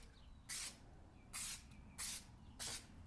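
Adhesive sprayed from an aerosol can onto a part for a 302 engine bottom end comes out in four short, sharp hissing bursts with brief quiet gaps between them, up close.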